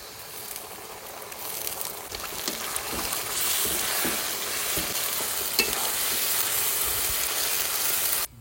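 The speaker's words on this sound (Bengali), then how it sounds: "জিরে আর ধনে তো ভাজা হয়ে গেছে" Ground cumin and coriander paste fries in hot oil with garlic in a village kitchen, a loud continuous sizzle with occasional scraping stir strokes. No voices are heard.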